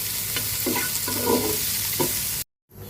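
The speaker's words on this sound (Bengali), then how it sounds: "এখন আমি আবার নাড়িয়ে চাড়িয়ে নিচ্ছি" Quail eggs and potatoes being stirred and fried in a pan, with a continuous sizzle and several distinct scraping stirs at regular intervals, close and clear, ending in a brief cut to silence.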